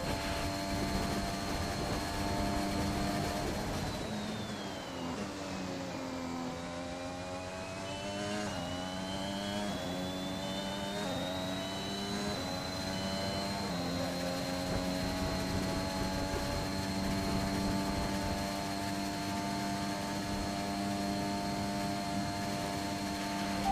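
F1 race cars at Monza in the game F1 2021 pass with a steady high engine whine whose pitch dips and climbs as cars go by. Mid-level and continuous, with no talk.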